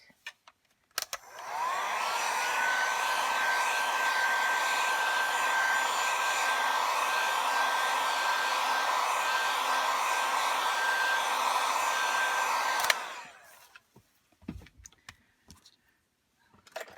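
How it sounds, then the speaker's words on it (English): A heat tool blows steadily over a stamped paper craft surface, drying the ink in one continuous, loud whooshing burst of about eleven seconds with a faint steady whine, then clicks off, leaving a few small handling noises. "I'm going to hit it with a heat tool for just a second"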